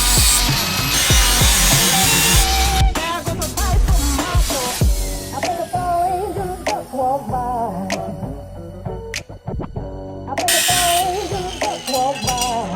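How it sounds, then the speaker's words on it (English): Loud power tool grinding and cutting through sheet metal while a car's transmission tunnel is being rebuilt, continuous harsh whine that surges and dips, with a clink of metal, close and dominant throughout. "I'm gonna go ahead and get to cutting on this metal."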